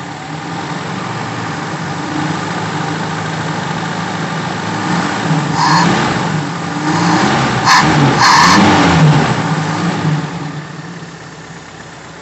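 Daihatsu Feroza petrol engine with a carburetor running rough and rich, a steady close idle that swells into a couple of revs around the middle before settling back, no talking.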